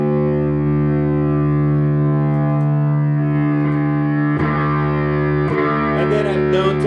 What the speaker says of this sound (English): So I am known to play bass with fuzz.